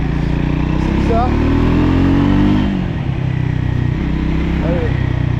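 A 2025 Triumph Scrambler 400X motorcycle running on the road, its engine droning loudly and steadily with rising revs, and a voice speaking over the sound.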